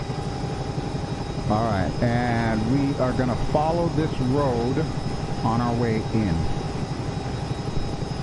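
A simulated helicopter's rotor and engine in the X-Plane 11 flight game drone steadily and evenly throughout, a constant hum beneath someone talking.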